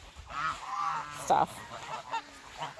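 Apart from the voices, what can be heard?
geese honking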